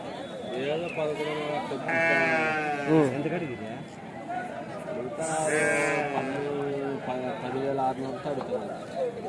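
Lambs bleat loudly and close by, in repeated wavering cries, while people talk nearby at a weekly sheep and goat market in Kadiri.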